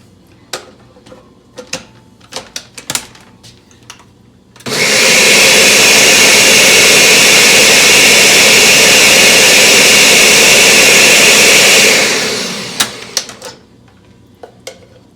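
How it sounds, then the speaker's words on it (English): A countertop blender whirs loudly and steadily for about seven seconds while pureeing hummus, then winds down, with scattered clinks and taps of utensils and containers before and after. "Scrape down the sides a little bit, and then blend that again"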